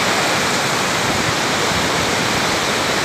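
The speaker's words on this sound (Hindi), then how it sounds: "सन्नाटा है बहुत और सिर्फ पानी के बहने की आवाज़ आ रही है" Mountain stream in Kumrat valley rushing through dense forest, a loud, steady, broadband roar of flowing water filling the whole stretch with no voices.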